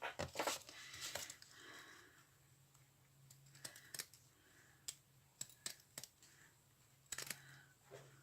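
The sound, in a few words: scissors cutting sequin fabric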